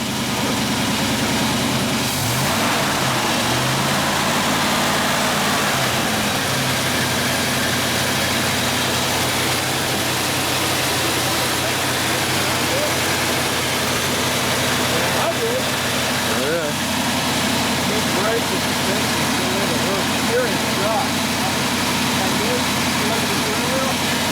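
A 1958 Ford F100 truck fitted with a 383 Mopar engine idles loudly and continuously at a truck junkyard, a deep steady rumble with brief revs near the start, while people talk nearby.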